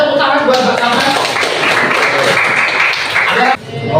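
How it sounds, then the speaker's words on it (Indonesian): Students in a classroom give a round of applause to a fellow student, a dense, loud burst of many hands clapping close by that lasts about three and a half seconds before cutting off, with voices mixed in. "Tepuk tangan buat Mbak Sama."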